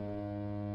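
A deep sustained ship horn blast from The Great Ace Attorney video game, a steady tonal drone with rich harmonics held evenly at moderate level, alone without talk.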